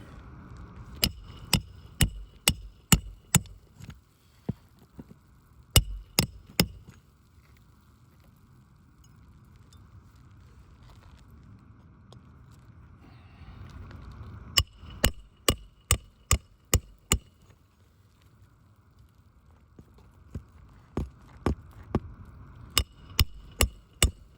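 Nails are hammered into roofing shingles during a roof repair, sharp close strikes landing in quick bursts of several blows with quiet gaps between the groups.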